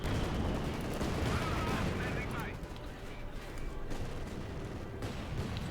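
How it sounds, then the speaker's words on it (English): An artillery barrage in the video game Company of Heroes 2 sounds as dense, continuous booming and crackling battle noise, loud and sustained, easing slightly midway, with background voices mixed in. "And artillery barrage off on the MD-42, hoping to silence this for downtown cannon. There we go, first volley causes a kill."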